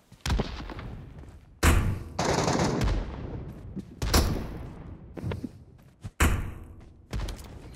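Gunfire in the Metro Royale video game, repeated loud bursts of automatic fire with heavy thumping shots, separated by short quieter gaps.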